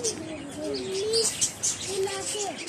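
Birds calling at Long Beach, several short chirps and cooing whistles rising and falling close by, with quiet voices in the background.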